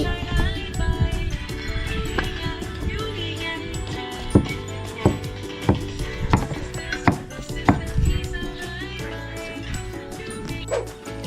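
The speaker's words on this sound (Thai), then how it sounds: "หั่นเป็นตอนชิ้นน้อย" Knife chops through pumpkin thud at an uneven, unhurried pace, cutting it into small pieces, each sharp cut standing out over steady background music.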